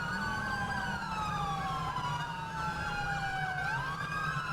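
An ambulance siren in GTA V wails continuously with rising and falling tones over steady traffic rumble, loud and close throughout.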